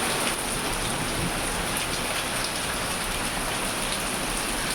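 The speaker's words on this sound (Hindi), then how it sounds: "इस समय बारिश हो रही है वो सामने देख रहे हैं आप भी, और खूब झमाझम बारिश हो रही है और ओले भी गिर रहे हैं।" Heavy rain with hail pouring down in Dehradun, a dense, steady hiss of drops striking surfaces that stays loud and unbroken throughout, with no voices.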